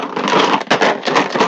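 Dense, loud rattling and clattering, like dice shaken hard inside a closed box, in a few continuous bursts with brief gaps.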